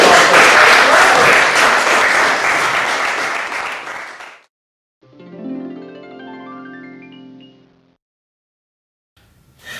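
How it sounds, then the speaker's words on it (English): An audience breaks into loud applause after a card-magic demonstration, clapping densely for about four seconds before fading out, followed by a short rising musical sting. "Big round of applause, please, for the three sides of our"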